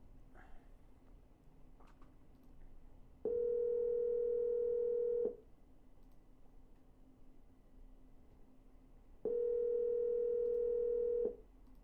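A phone line sounds two long ringback tones while a call to a real estate seller is redialed, each steady tone lasting about two seconds with a quiet pause between them.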